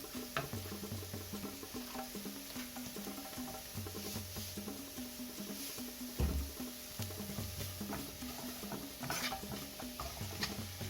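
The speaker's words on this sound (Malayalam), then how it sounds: "അപ്പം അതിലേക്ക് നമുക്ക് ഈ സവോള ഇട്ട് ഒന്ന് നന്നായിട്ടൊന്ന് വഴറ്റിയെടുക്കാം" Sliced onions sautéing in a pan with salt, a quiet continuous sizzle with light rhythmic stirring scrapes and occasional soft knocks.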